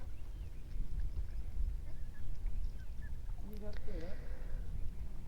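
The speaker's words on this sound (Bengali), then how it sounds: "আর এই যে নদীর ভিতরে কতগুলো হাঁসের বাচ্চা আর কি।" Ducklings on the Kopotakkho river give a few brief, faint calls near the end over a steady low rumble of the river crossing.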